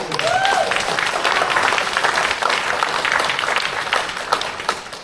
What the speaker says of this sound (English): So that alone, I think, deserves a round of applause